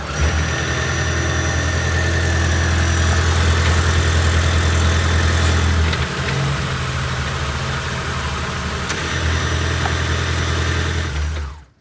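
A Ford Maverick hybrid truck with a 2.5L engine runs steadily close by as it drives up plastic ramps. A low idle-like hum holds throughout, with small shifts in tone midway and a cutoff at the very end.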